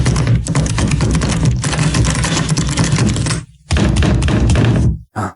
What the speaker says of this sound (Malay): Dan waktu ni kan makin kuat pula ketukan dekat pintu tu.